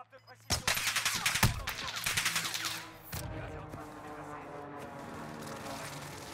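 Gunfire in a shooter game on the Caldera map, with the K31 rifle in play, comes as a dense, rapid run of loud shots that breaks off into quieter background ambience.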